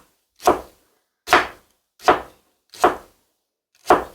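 A kitchen knife chops through kabocha squash on a cutting board in five separate, evenly spaced thuds, each a crisp, close strike with a short decay and silence between.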